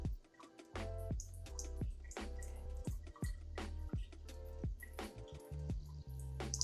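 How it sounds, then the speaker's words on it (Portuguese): Water drips steadily from a tap opened to a thin trickle, each close drop landing in a quick, even series of wet plinks that continues throughout. "Aí a gente vai abrir a torneira para ela pingar água"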